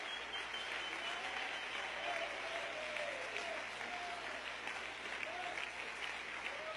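A church congregation applauds in a sustained, even wash of clapping that fills the room at a moderate distance, with faint voices mixed in.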